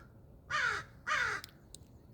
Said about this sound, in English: There's a conversation going on with a couple of different birds.